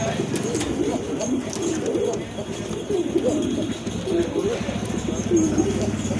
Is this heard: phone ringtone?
no